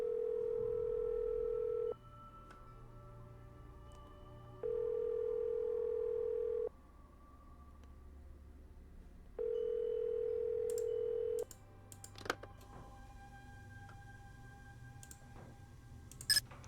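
A steady telephone dial tone in the Nancy Drew game White Wolf of Icicle Creek plays in three long even bursts separated by pauses, followed by a few faint clicks and beeps.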